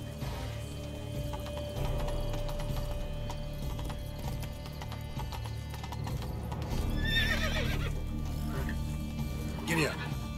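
Horse in the video game Witcher 3 galloping with steady rhythmic hoofbeats, then two sharp whinnies near the end, close and loud over game music and character talk.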